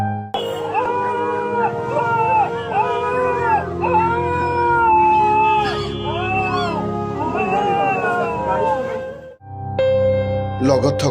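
A puppy cries after being hit by a car: loud, close, continuous high whining wails with rising and falling pitch, breaking off briefly near the end before a final strained cry.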